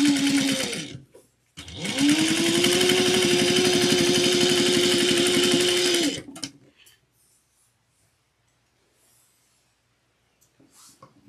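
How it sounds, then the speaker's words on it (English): A sewing machine top stitches a zipper bag at 1/8 inch in a short burst, then runs steadily for about four seconds before stopping, leaving near silence with faint handling noises. "So I'm going to top stitch it at 1/8 of an inch."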